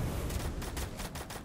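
Rapid bursts of gunfire from the video game Free Fire crackle in quick, irregular volleys, fairly faint and alone in the mix.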